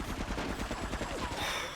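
Rapid sustained gunfire in Grand Theft Auto 3, a dense automatic burst of closely spaced shots filling the whole moment, loud and continuous with no talk.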